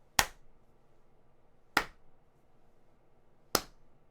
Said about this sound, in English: That is the sound of him clapping slowly